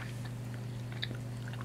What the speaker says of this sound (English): I'm chewing away.